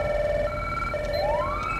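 Grand Theft Auto V emergency siren holding a steady tone that then sweeps upward, moderately loud over a constant low rumble, with no talking.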